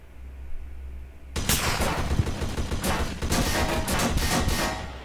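Gunshots in a World War II roleplay server of Garry's Mod, a sudden onset of dense, overlapping firing that continues as a sustained clattering fusillade after a quiet start.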